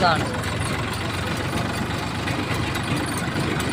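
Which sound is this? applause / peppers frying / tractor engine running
tractor engine running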